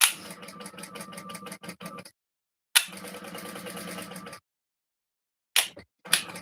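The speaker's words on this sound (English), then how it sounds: "lift my presser foot up so it sits over top, and then it'll keep it from pushing your edges out of the way." Sewing machine basting fabric for a shoulder bag, running in quick close mechanical bursts of needle stitching separated by pauses, with a couple of brief starts and stops near the end.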